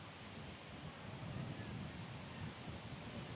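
Strong headwind blowing across a golf course in Denmark, a steady loud roar of rushing air buffeting the microphone, swelling slightly in the middle, with no distinct other sounds.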